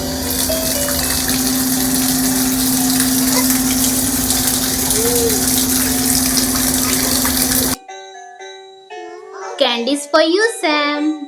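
Water gushes steadily from a tap for several seconds as hands are washed, loud and close, then stops abruptly and a voice speaks.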